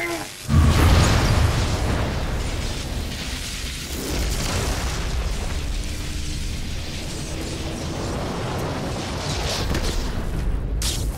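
A heavy explosion in the video game Infamous 2 bursts out near the start, followed by a sustained roar of rumbling debris and noise that stays loud for several seconds.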